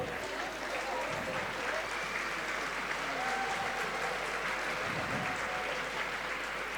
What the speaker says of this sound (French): Le Burundi que l'on applaudit très fort.